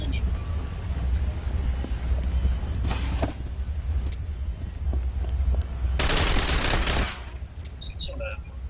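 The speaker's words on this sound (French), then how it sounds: "Ça tire là." Gunfire in the video game The Ship, with short bursts and one longer rattling volley of automatic fire over a steady low background hum, someone speaking French in between.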